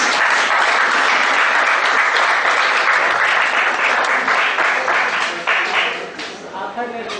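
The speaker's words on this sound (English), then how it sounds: "Can we have one more round of applause" Loud, dense applause from an audience at a memory technique session, a steady wash of many clapping hands that fades toward the end, with faint voices beneath it.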